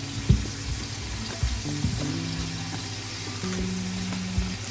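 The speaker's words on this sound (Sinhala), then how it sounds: "ඉතින් මං ඉස්සෙල්ලාම කරගන්නේ තෙල් ටිකක් දාලා කරවල ටිකක් බැද ගන්න එක හොඳට" Dried fish frying in a little oil, a steady moderate sizzle with a few knocks and clatters of utensils against the pan, close by and without speech.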